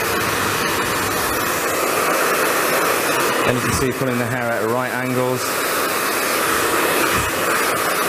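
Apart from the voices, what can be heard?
hair dryer blowing while smoothing hair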